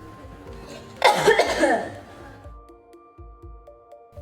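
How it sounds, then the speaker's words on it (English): One forceful, close cough follows breath stacking with an ambu bag and mouthpiece, a single harsh burst trailing into quieter breathing. "Take the mouthpiece out and cough."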